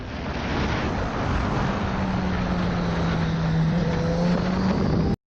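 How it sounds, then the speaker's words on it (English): Motorcycle engine on the road as the rider rolls on throttle mid-turn, a low engine note rising steadily beneath heavy, constant wind rush. "halfway through the turn, he applied some throttle"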